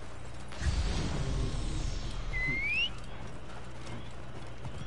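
Horse hooves clopping in the video game Assassin's Creed Origins, a short run of dull thuds over a couple of seconds followed by a rising whinny-like call, moderately quiet with game ambience and no talk.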